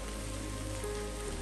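Steady rain falls on a forest at night, a dense, even hiss of drops on leaves and ground, close and continuous with no voices.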